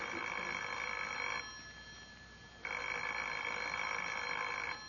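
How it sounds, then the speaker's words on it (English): A telephone bell rings in two long, evenly spaced bursts with a brief pause between them, moderately faint and heard alone. "Well, answer the phone, Lancelot."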